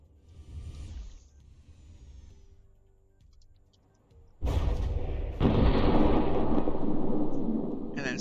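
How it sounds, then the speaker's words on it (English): Two rammed vehicles blowing up in a video game, a sudden loud explosion erupting after quieter rumbling and swelling into a sustained roaring blast. "And then suddenly explosion"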